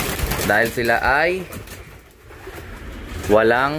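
Racing pigeons coo in a loft in Rosales, Pangasinan, with soft throaty calls mixed in close behind someone talking.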